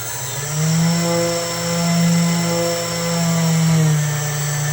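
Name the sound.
boat thrusters throttling up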